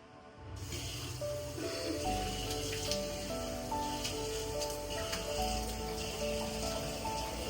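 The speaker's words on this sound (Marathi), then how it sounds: "आणि पाऊस पण चालू होता." Steady rain falls at night, a dense, even hiss of drops on surfaces that continues without pause, with no voices over it.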